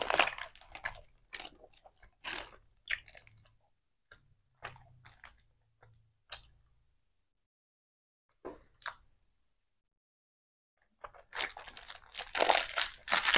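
Chewing crunchy food, with bursts of crisp biting and crunching close to the mic, plus crinkling like a packet, separated by quiet pauses and a louder stretch of crunching at the end.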